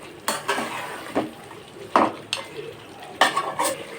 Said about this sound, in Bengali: আমি মাংসটা ভালো করে নেড়ে দেব